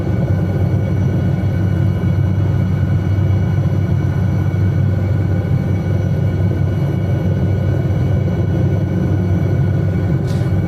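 A simulated SA315B Lama helicopter cruises in flight, its rotor and turbine making a steady, loud, unbroken drone with a deep low hum throughout and no voices.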